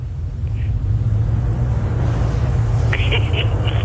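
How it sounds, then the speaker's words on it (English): Wind turbine gearbox running low on gear oil, a steady loud low rumble and drone heard up close, continuous throughout with a few faint higher whines near the end. "I was standing next to one of those giant wind turbines"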